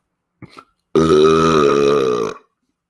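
A short throat click, then one long, loud, resonant belch close to the listener.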